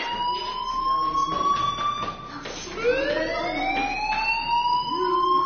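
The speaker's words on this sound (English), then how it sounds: "Hey, do you hear that fire alarm? That means you should be outside." A fire alarm wails with loud, sweeping tones that rise and fall over and over, with overlapping pitches and slight clatter beneath the sustained siren.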